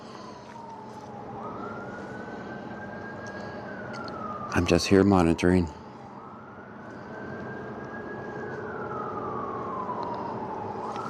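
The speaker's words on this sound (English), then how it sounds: "I can hear the sirens." Distant emergency sirens wail in rising and falling sweeps behind steady background noise, with a brief burst of closer talk and clatter in the middle.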